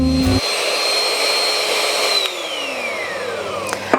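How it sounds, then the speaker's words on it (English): An electric mixer whisks two egg whites in a bowl toward stiff peaks, a steady loud motorized whir that holds for several seconds, its pitch slowly drifting downward near the end. "So I've got 2 egg whites in my bowl, and I'm going to whisk these until they're stiff."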